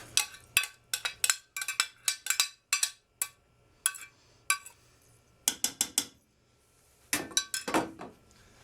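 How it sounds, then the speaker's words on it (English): A spoon stirs ground beef into ragu sauce in a metal pot, giving a run of sharp clinks and scrapes in irregular bursts, close and crisp, with a few short pauses between clusters. "And give that a stir"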